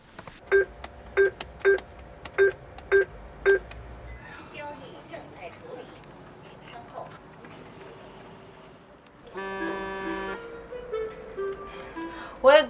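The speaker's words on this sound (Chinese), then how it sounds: "我给他打个电话。" Telephone keypad dialing: six evenly spaced keypad tones, then a long steady electronic tone and a burst of varied electronic tones, with voices faintly heard in a drama scene.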